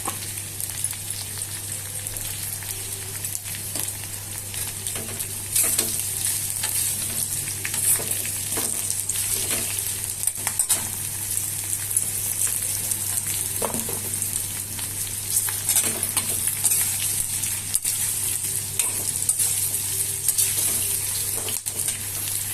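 Asafoetida and spices fry in hot oil for a coconut cucumber chutney, giving a steady, loud sizzle and crackle that runs unbroken throughout, with faint stirring knocks and no voices.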